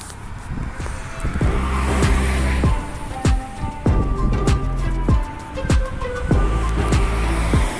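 A gas-powered route 960 bus approaches near a central bus station, its engine loud and close with repeated revving and gear-shift sweeps over steady traffic noise, and no talking over it.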